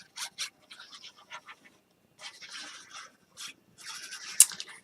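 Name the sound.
dog panting and sniffing around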